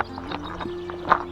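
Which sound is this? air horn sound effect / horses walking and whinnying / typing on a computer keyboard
horses walking and whinnying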